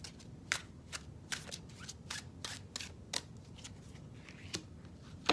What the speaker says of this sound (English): I'm gonna throw one more card on that.